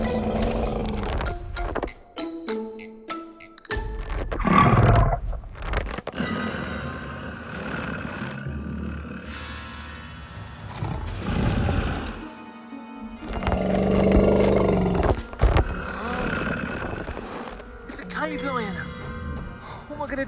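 A cave lion roars in a children's prehistoric animal adventure programme, with deep growling bursts mixed among music, effects and a speaking voice.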